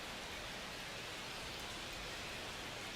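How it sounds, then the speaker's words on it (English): Rain falls steadily in MLB The Show 25 at a New York ballpark, a faint, even hiss of drops with no breaks or other sounds. "a little bit of rain falling here in New York now"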